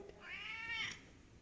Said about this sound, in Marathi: वा किती छान कॅट आहे